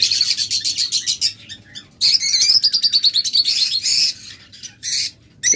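Lovebirds at a bird farm chirp and squawk in rapid, shrill bursts close by, with short pauses between them and no talk.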